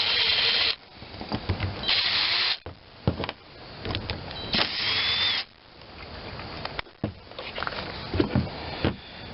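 A power tool removing a front bracket from a 10hp Tecumseh snow engine, with loud bursts of driver whirring in several separate runs and quieter clicks and clanks of handling between them.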